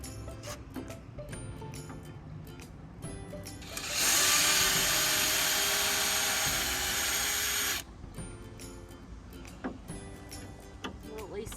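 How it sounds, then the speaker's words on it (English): A power driver whirs steadily for about four seconds, backing screws out of a wooden milking stanchion, amid scattered clicks, taps and handling knocks before and after. "I'll just take the screws out."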